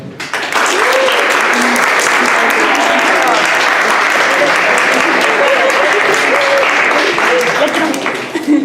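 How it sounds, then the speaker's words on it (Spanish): An audience at a psychology research conference breaks into loud, sustained applause that starts abruptly and fills the room for several seconds, with voices mixed in underneath. "Otorguémosle un aplauso."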